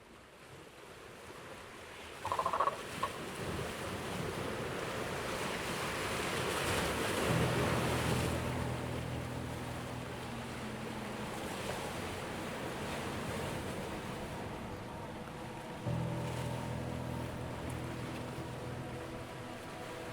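Steady surf and wind roar at a river estuary where the river meets the sea, with waves swelling and breaking in long continuous washes, a brief louder knock early on, and no voices.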